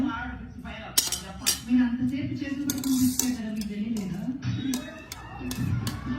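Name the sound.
spoon clinking while adding yogurt to dish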